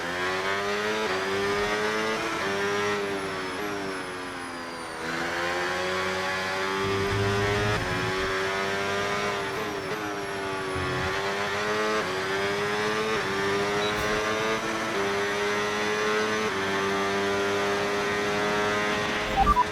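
Whining F1 race car engine in the F1 video game, with an internal combustion engine showing wear; pitch climbs and drops repeatedly through gear changes, sustained and close.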